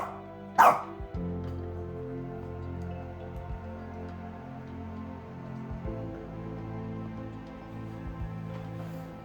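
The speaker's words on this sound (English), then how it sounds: "barking at the very thing she just threw away" A dog gives a single sharp, loud bark at a discarded antler, with low steady background hum through the rest of the moment.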